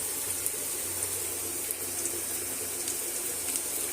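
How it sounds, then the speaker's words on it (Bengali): Hot water poured into onions frying in a pan, a steady splashing, hissing pour that runs continuously at close range with no talk over it. "পেঁয়াজটা ভাজা ভাজা হয়ে গেছে, পানি দিয়ে দেব।"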